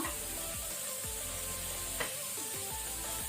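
Onion and green chilli sizzle steadily in a pan over medium flame, a continuous close hiss with occasional scraping stirs.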